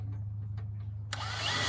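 A small drill bit bores a hole through Alumawood aluminum lattice, the power drill whining up abruptly and running loud and steady after a stretch of quieter background hum.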